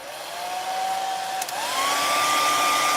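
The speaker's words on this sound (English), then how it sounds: "going to hit the bait with the hair dryer" A hair dryer blows hot air onto a freshly painted fishing lure, a loud steady whine and whoosh that dips briefly and returns at a slightly higher pitch, close and alone.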